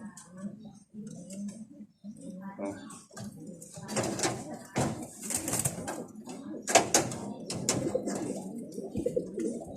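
Pigeons coo and rustle nearby while a person talks over them, with fluttering and scuffling sounds rising toward the end.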